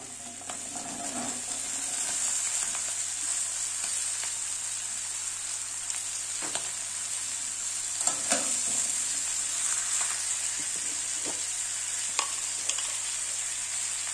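Crabs frying in a pan before pumpkin leaf stems go in, a steady hissing sizzle like light rain, with a few faint knocks and scrapes of a utensil, close and even.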